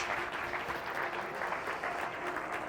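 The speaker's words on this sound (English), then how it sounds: "Give our volunteers another huge round of applause." Steady audience applause, a dense wash of many hands clapping at an even level throughout, with no voices standing out.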